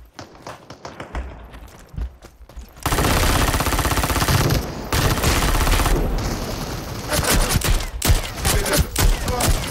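Gunfire erupts in the shooter game Super People, with rapid automatic bursts and heavy volleys that go on and off in dense, loud stretches, and a few brief pauses between them.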